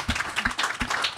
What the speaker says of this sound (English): clap it up for Kate Grace